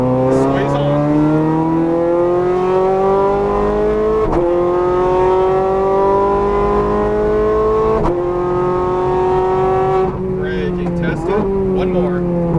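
Ferrari 430 Scuderia engine revving up through the gears on a Las Vegas race track, loud and close with harmonics rising steadily and two brief dips at shifts, while an instructor talks over it.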